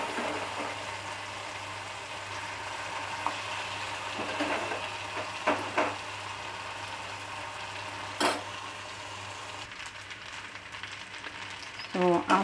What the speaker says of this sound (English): after mixing rice with the tomato and masalas